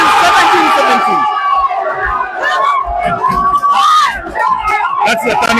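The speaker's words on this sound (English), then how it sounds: "It's a big crowd here. People are shouting." A big crowd at a high-stakes pool match shouts and screams loudly and without a break, with excited voices rising over one another all the way through.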